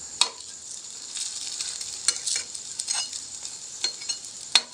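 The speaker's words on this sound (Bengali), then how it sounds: "অল্প তেলে ভেজে নিতে হবে।" A snack frying in a little oil in a pan, giving a steady close sizzle broken by a few sharp crackles and spatula taps.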